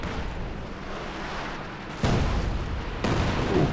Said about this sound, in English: Katyusha barrage into this area